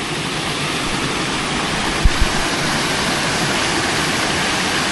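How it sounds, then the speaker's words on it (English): A waterfall at Hothfield lake near a sluice gate roars loudly and steadily, a dense broadband rush of falling water with a couple of faint knocks partway through. "And there's a waterfall."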